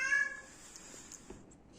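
A cat gives a short meow up close, a brief rising cry with a faint, noisy background around it.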